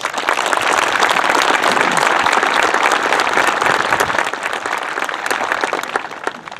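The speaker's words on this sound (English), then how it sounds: "Let's give all those parents a round of applause." Loud, sustained applause for the parents from a large crowd at a graduation ceremony, dense clapping that fills the room and tapers slightly toward the end.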